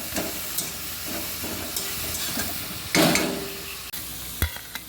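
Potatoes frying in a pan are stirred, giving a close, continuous sizzle broken by spoon scrapes and knocks against the pan, including a louder burst of hissing near the middle.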